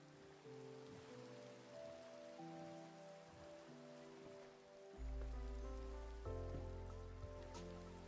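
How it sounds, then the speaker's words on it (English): Steady rain patters across the scene in the video game Minecraft, a soft continuous hiss of drops layered under calm background music that grows fuller and deeper partway through. "It's raining in Minecraft."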